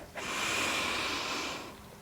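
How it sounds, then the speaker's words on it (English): Steady nasal breathing during a yoga flow, one long airy breath through the nose lasting most of two seconds, close and clear with no talking. "Breathing in and out through the nose."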